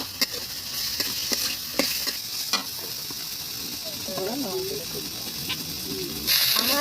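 Desi chicken going into a hot pan of cooked masala: a steady frying hiss with scattered scraping clicks, a brief murmuring voice in the middle, then a louder burst of sizzle near the end.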